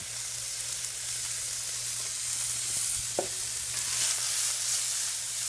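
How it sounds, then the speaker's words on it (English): Strips of meat searing in a big, hot Lodge Cook It All cast iron pan used as a wok, producing a steady, loud sizzle close up with a faint clink partway through. "sear these off, not completely cook them, just searing them off"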